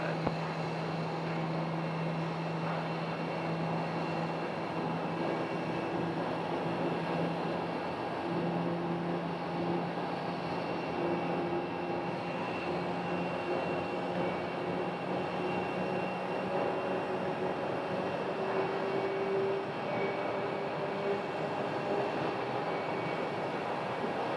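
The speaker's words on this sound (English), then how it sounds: "We have an engine start right now." A jet airliner's engine spools up at a Sky Harbor airport gate, a steady droning whine with slowly rising tones, heard from a distance for over twenty seconds with no voices.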